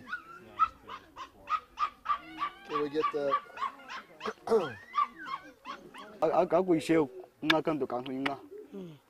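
A puppy whimpers and yips in short, high cries, close by, mixed in with people talking over it.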